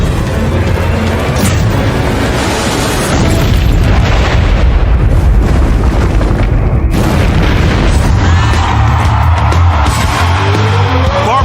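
A huge tanker explosion roars and rumbles continuously, a thick wall of deep booming blast noise with crackling bursts throughout.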